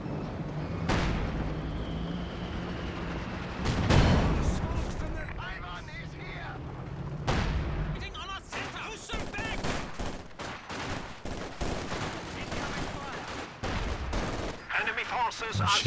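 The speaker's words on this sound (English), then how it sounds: "Machine gun." Machine gun fire from a Maxim support weapon in a real-time strategy game match, bursts of gunshots crackling among explosions and battle noise, with a commentator talking over much of it.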